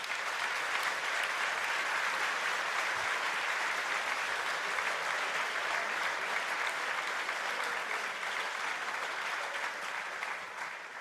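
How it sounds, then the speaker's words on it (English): Sustained audience applause for the judges at a Formula Student business plan finals, a dense, steady wash of many hands clapping that holds evenly for the whole stretch before tapering slightly at the end. "So please give a big round of applause for our judges."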